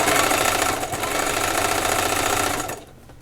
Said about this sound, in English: So I'm measuring as I stitch along.